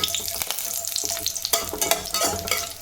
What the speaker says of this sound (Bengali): আগে বড়ি আর উচ্ছেটা ভেজে নেব।